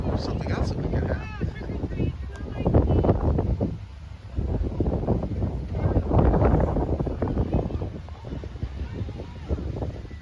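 Gusty breeze buffeting the microphone at an outdoor trunk-or-treat car show, rumbling in swelling waves with someone talking over it.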